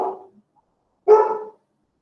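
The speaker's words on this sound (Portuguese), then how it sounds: "Desculpa, meu cachorro está lá." A pet dog gives two close barks indoors, a short one at the start and a louder, fuller one about a second later, with silence in between and no talking.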